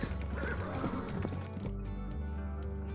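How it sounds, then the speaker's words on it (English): A horse whinnies loudly up close and its hooves clatter on a dusty town market street as it skids to a stop, a short burst of neighing and clip-clop. "A messenger on a dusty horse skidded to a stop in the small town market."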